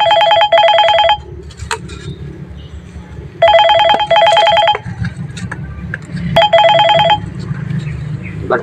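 A phone rings outdoors in three bursts of rapid electronic trilling, each lasting about a second, over low background rumble and faint activity.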